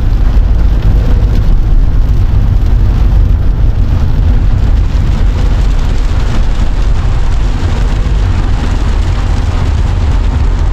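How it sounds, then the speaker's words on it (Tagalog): Heavy rain pouring steadily in Cavite, a loud, dense roar of drops hitting surfaces with low rumble underneath, continuous throughout with no voices. "Lumakas yung ulan."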